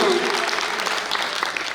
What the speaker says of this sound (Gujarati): જોરદાર તાળીઓના ગડગડાટથી વધાવી આરકે પરિવાર તરફથી